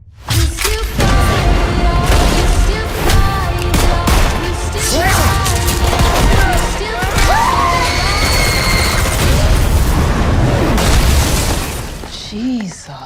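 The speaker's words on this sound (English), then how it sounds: "Why are they shooting at you?" Loud gunfire in a chaotic action scene, a dense run of bangs and crashes over shouting voices and music, lasting throughout before cutting off abruptly.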